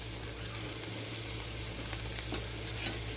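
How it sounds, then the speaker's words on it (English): Green onions sautéing with wilted spinach in a pan for a Greek feta spinach quesadilla, giving a steady, close sizzle with faint crackles and no voices. "I'm going to go ahead and add my green onions to this."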